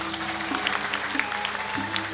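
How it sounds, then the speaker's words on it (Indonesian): Audience applause at a Balinese drama gong stage performance, a steady wash of clapping under a sustained musical tone. "Tepuk tangan."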